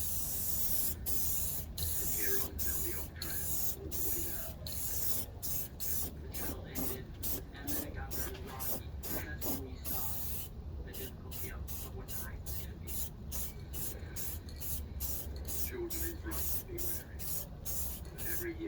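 Spray paint goes onto a car's rear upper quarter panel during a rust repair, heard as dozens of short, evenly spaced hissing bursts from a nearby spray can, with a brief pause partway through.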